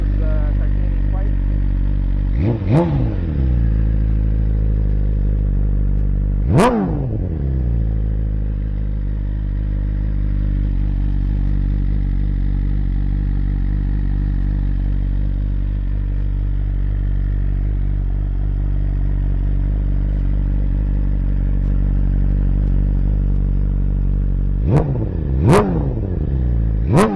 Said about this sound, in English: Bike sounds pretty good with this titanium pipe.